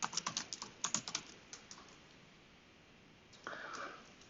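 A quick burst of keystrokes on a computer keyboard while typing Java code, clicking rapidly and unevenly for about a second and a half before trailing into a faint pause and a soft rustle.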